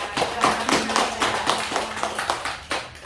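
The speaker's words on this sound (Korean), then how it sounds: "우리를 구원해 주신 하나님께 영광의 박수를 올려드리겠습니다" A church congregation claps together in a steady run of rhythmic applause, fairly close and even in loudness, ending after a few seconds with no voices over it.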